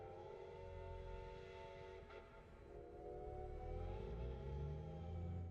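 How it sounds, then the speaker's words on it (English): A steam locomotive passes in the Euro Truck Simulator 2 video game on a snowy winter route, sounding a long, steady, multi-tone whistle blast at a distance, fairly faint and sustained throughout. "I definitely like that they kept the old steam locomotive going for this instead of using something new"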